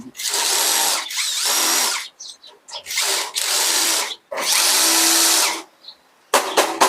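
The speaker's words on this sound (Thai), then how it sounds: "ยึดน็อตเข้าไปให้ แน่นหนาครับ" A power drill tightens bolts while a multipurpose storage shelf is assembled. Loud, close whirring bursts of one to two seconds each, separated by short pauses and faint handling noises.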